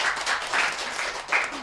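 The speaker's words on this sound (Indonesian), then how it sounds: "Tepuk tangan untuk kita semua" An audience at a school free-meals event bursts into brief applause, a loud, dense patter of clapping with slight swells over under two seconds.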